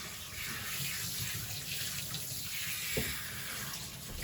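Tap water runs steadily into a bath, rinsing soap off a dog with a soft continuous splashing close by, interrupted by one brief louder splash.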